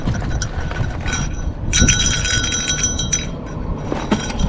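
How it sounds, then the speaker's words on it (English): Small bell found among bags in an abandoned storage unit, rung with bright ringing tones around the middle, over loud rustling and handling noise. "What is this? This is a bell."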